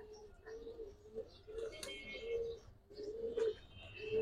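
Giribaz highflyer pigeons coo softly in repeated low, throaty phrases, with light ticking and shuffling sounds in between.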